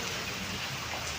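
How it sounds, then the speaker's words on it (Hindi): Rain falls as a steady, even hiss of dense drops, moderately quiet and continuous over a brief moment, with no voices or other sounds. "देखो बारिश आ रही है"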